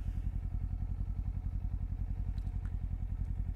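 Kawasaki Z400 motorcycle riding through city streets in Osaka, its engine pulsing in a steady, fast rhythm close to the rider, with a faint rattle near the end and no talking.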